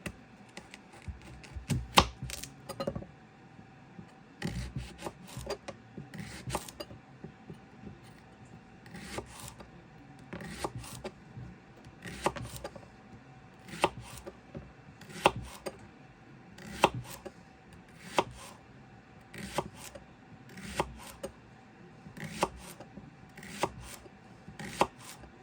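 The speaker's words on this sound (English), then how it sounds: "the next part we're going to do is cut it in about probably a 1/4 inch slice" A kitchen knife slices leeks into quarter-inch rounds on a cutting board, producing a steady run of crisp, close chopping taps with short pauses between strokes.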